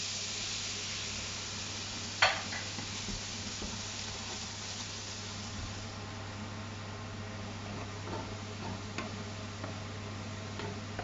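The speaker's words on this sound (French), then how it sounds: "Et je vais venir déglacer le tout avec mon verre de vin blanc." A pan of pork carbonnade deglazed with a glass of white wine, giving a quiet, steady sizzle with one sharp clink near the start and occasional light ticks.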